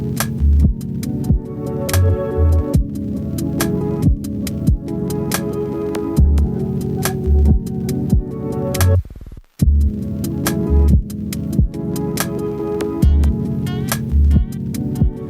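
A slow lo-fi hip hop freestyle beat built from a sample plays on its own, with a steady loop of thumping kicks and crisp percussive hits, a brief dropout near the middle, then the loop resumes.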